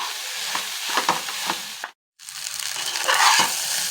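Egg rice being stirred in a pan over high flame, a steady sizzle with spoon scrapes and taps, briefly cutting out for a moment before the frying noise returns louder.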